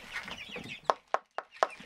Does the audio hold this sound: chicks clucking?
yes